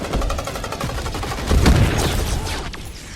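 Rapid, loud gunfire from a sci-fi blaster in the video game Marvel's Guardians of the Galaxy, a dense continuous burst of shots with heavier impacts midway, alone without talk.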